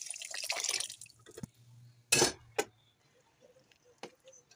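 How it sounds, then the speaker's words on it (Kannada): Cooked toor dal is poured into a pan of methi masala, making a brief wet splash and dripping. Faint metal clinks from the utensils follow, all quiet and close. "ಇದಕ್ಕೆ ಈಗ ಈ ದಾಲನ್ನು ಸೇರಿಸೋದು."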